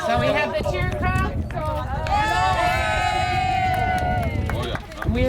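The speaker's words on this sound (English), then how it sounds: "So we have the cheer crowd." Lively outdoor crowd cheering and calling out together, with whoops and raised voices over dense babble, swelling in the middle and fading near the end.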